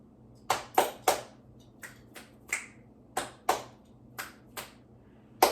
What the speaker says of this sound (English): Checking in with my clap snaps.